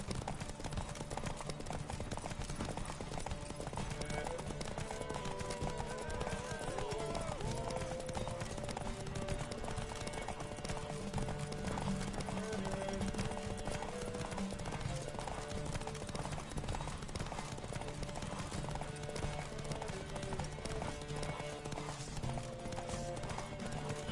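Roach, a horse in The Witcher 3, gallops in a race with fast, continuous hoofbeats in a steady drumming rhythm, mixed with an occasional whinny and other game sound throughout.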